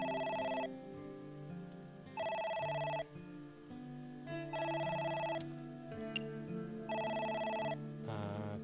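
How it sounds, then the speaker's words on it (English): Telephone ringing in the video game AI: The Somnium Files, four bright electronic ring bursts in a steady pattern with pauses between, set against soft game music with no talk. "Oh? It's the phone."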